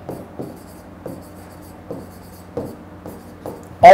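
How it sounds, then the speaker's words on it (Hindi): Chalk or marker writing a sentence on a classroom board, a series of short scratchy strokes in irregular rhythm, close and clear, ending in a sharper louder scrape. "जैसे मैं लिखता हूं कि मोहित सेड टू मी"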